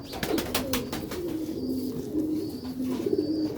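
Soft, low cooing of Sialkoti pigeons repeating nearby, with a few brief clicks and rustles near the start.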